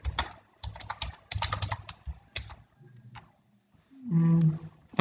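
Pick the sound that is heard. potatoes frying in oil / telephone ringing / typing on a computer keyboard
typing on a computer keyboard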